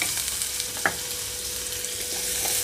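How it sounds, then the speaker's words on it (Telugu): Onion pieces fry in a pan over a medium flame for a white chickpea curry, giving a steady, soft sizzle with a brief stir in the middle and no talk. "ఇక్కడ ఉల్లిపాయ ముక్కలు కొంచెం సాఫ్ట్గా అయ్యే వరకు మీడియం ఫ్లేమ్లో ఉంచి వేయించుకోవాలి"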